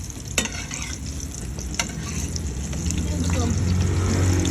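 Food fries in a Teflon pan, crackling and sizzling steadily, with a couple of sharp clinks of a utensil and a low background hum growing slightly louder.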